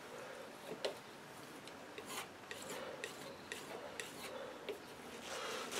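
Palette knife scraping oil paint across a coarse-sanded MDF board sealed with PVA glue, a close raspy rubbing sound in repeated short strokes, steady and alone.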